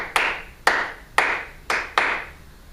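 A group claps a rhythm together in a music class: five sharp, evenly spaced claps land about half a second apart, close and crisp, with no talking.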